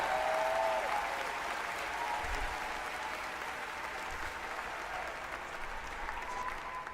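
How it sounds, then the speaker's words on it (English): Audience applause fills a large live venue at The Game Awards, a dense, steady roar of many hands clapping that holds loud and unbroken throughout. "let's give a big round of applause to these two guys for the great circle"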